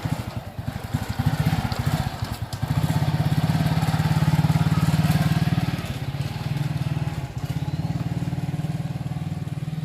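A motorcycle ridden on a short test run, its engine a steady, loud droning rumble that swells around the third second and then holds, with occasional clunks and no talking.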